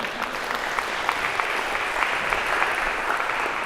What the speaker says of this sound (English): maybe a round of applause to break the awkwardness here